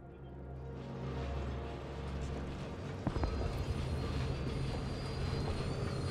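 Train cars rumble in Dishonored 2, a low continuous rolling drone building from quiet, with a brief metallic clank partway through.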